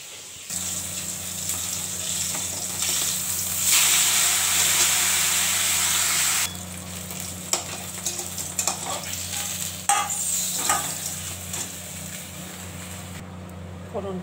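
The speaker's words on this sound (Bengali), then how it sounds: "মাছ ভাজা হচ্ছে" Katla fish frying in oil in a pan gives a loud, steady sizzle and hiss that swells for a few seconds and then settles lower, with kitchen clatter and a voice talking over it.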